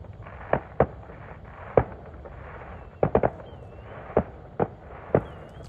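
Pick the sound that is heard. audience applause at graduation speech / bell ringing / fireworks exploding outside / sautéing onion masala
fireworks exploding outside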